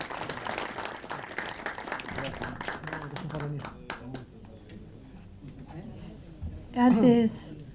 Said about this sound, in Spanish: un aplauso para el padre Pepe que se tiene que retirar